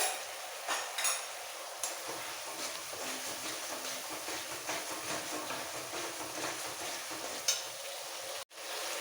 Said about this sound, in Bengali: এবার একটু কষিয়ে নেব আর মশলাটা কষাতে কষাতে দিয়ে দেবো পাঁচটা ঝাল কাঁচা লঙ্কা বাটা